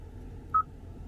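A single short, clear tone from the touchscreen dial pad of a 2017 Kia Sorento sounds alone against low background hum, with no talking.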